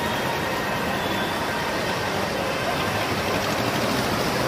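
Delhi metro train passing nearby, a steady loud rumbling roar of wheels on rails with constant broadband noise throughout, no clear talk.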